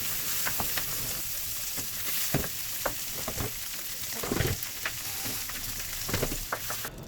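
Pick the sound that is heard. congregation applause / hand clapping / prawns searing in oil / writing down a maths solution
prawns searing in oil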